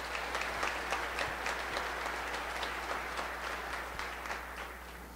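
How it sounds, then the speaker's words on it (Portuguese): A church congregation at a Catholic charismatic retreat breaks into steady, sustained applause, an even wash of many hands clapping over a low electrical hum. "Vamos aplaudir a palavra de Deus"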